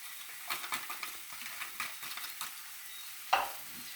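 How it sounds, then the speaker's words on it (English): Tomatoes and chili powder get stirred into mung dal in a pan, with a series of close scraping strokes and soft sizzling ending in a sharper clack of the utensil. "Give that a stir."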